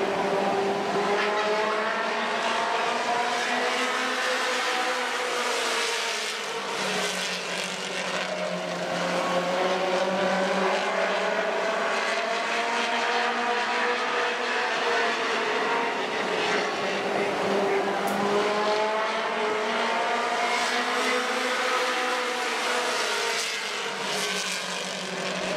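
U.S. Legends race cars lapping a track, a continuous loud drone of several engines swelling and fading as they work through corners, with a crowd-like wash of noise underneath.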